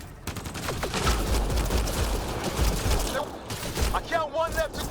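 Rapid gunfire in the Mass Effect Andromeda video game, a loud, dense barrage of shots lasting several seconds, with brief voices breaking through near the end.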